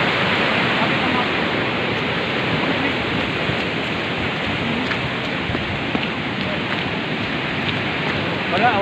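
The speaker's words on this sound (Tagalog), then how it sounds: "grabe kakusog sa tubig" A flooded river rushes past an eroding riprap dike near a bridge as a steady, loud, broadband roar of water, with a voice talking over it.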